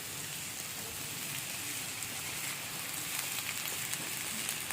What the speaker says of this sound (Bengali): এবার পেঁয়াজটাকেও ভালো করে এর সাথে ভেজে নিতে হবে।